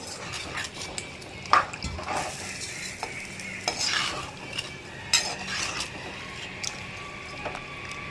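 Sizzling masala for country chicken curry in a pan, with a little water added, frequent scraping and clinking of a spoon against metal as the mixture is stirred, close up.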